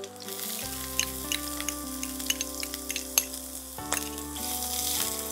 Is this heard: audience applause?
no